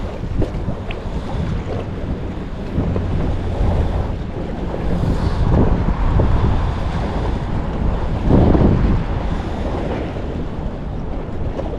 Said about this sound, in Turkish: biraz rüzgarlı. Su hafif dalgalı.